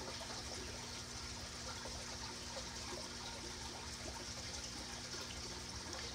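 Air bubbles trickle steadily through a peacock cichlid aquarium, a soft continuous watery fizz and gurgle with no talking.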